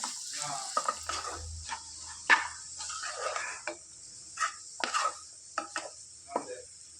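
Small-cut ridge gourd pieces sizzling and frying in a pan while being stirred, with steady hissing and intermittent scraping stirs close up.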